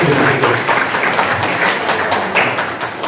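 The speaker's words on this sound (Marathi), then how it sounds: "सर्वांनी जरा जोरदार टाळ्या वाजवून त्यांचं स्वागत करावं" Audience at an evening Marathi poetry gathering claps loudly and steadily to welcome a guest, a dense continuous patter of many hands filling the room.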